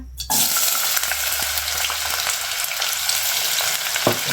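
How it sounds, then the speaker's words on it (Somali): Chopped onions dropped into a pot of hot oil, a sudden loud sizzle bursting in after a brief quiet moment and crackling steadily, close up, with light stirring. "hadda waxaan kusoo shubtay digsiga saliid yar insha Allah. marka hadda waxaan ku darsanayaa basasha"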